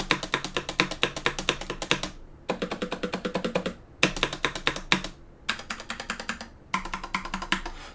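Typing on an Apex 7 mechanical keyboard with a plasticky spacebar: dense, close, rapid key clacks in bursts with short pauses between them, and no voice.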